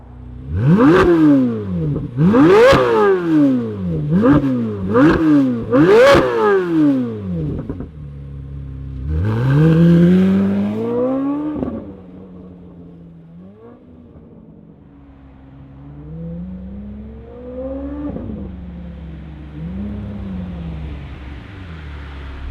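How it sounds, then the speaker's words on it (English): A 2024 C8 Corvette Z06 with a modded exhaust barks to life and revs hard several times in quick succession, then settles into a rumbling idle with occasional throttle blips. "Let's fire it up and hear what it sounds like."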